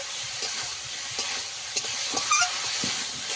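Potatoes and spices fry in oil in a pan, a close, even sizzle with soft scraping stirs and faint pops running through the short stretch, no voices.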